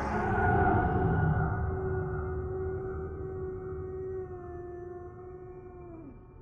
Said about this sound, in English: another of those haunting wails howled out in the distance I couldn't pinpoint